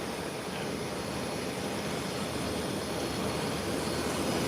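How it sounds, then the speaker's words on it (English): An American Airlines jet is parked at an airport gate, its engines giving a loud, steady roar and broad hiss with a faint high whine, continuous and close. "The American Airlines is being parked."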